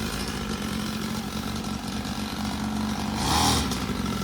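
Small mini bike engine buzzing steadily nearby like a chainsaw, with a brief rise in pitch and loudness as the throttle is opened toward the end.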